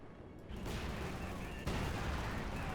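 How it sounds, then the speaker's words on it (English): Explosions and gunfire from a Company of Heroes 2 battle, including a grenade blast: a dense, continuous rumble with a sharp jump in loudness partway through, under faint background speech. "that was a good grenade toss over the building"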